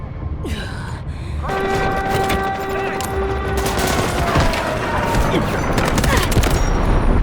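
SMG 45 submachine gun in the shooter game Delta Force firing sustained bursts, a loud dense rattle of rapid shots running almost continuously through the clip with game effects layered over it.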